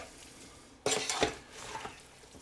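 A spoon scrapes and clinks through tomato bolognese sauce in a pressure cooker pot, a short burst of stirring noise after a quiet start, then softer scraping, close by.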